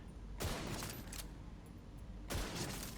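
Gunfire in The Division 2 video game comes as two rapid rattling bursts with a steady rumbling background between them, moderately quiet.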